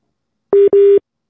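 A telephone busy signal on a failed call, two loud beeps of steady tone in quick succession with a short gap between them, heard alone and clearly.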